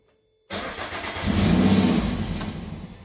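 A Toyota MR2 Spyder with a 2ZZ-GE engine started with its key, the engine catching abruptly after silence, then idling and briefly revving up close by before settling, no talking.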